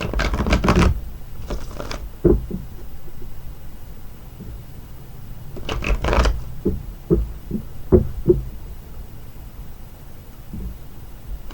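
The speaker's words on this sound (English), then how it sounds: "And now we're going to shuffle Angela's cards." A deck of tarot cards is shuffled in irregular bursts of riffling and soft slaps, with quieter gaps and scattered taps between them, close by and without talk.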